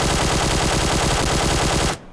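A QBZ assault rifle fitted with a light grip fires in PUBG Mobile: a loud, rapid, unbroken burst of automatic gunfire lasting about two seconds, then it stops abruptly.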